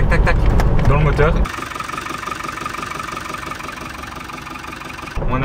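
Car engine after an oil warning, restarted by the roadside, idling with a rapid metallic knocking tick under a steady mid-pitched hum, briefly preceded and followed by talk.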